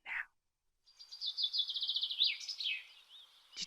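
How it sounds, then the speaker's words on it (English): A bird calls outdoors in a faint, quick chirping trill that rises and warbles for a few seconds, preceded by a short soft sound. "Did you guys hear that bird?"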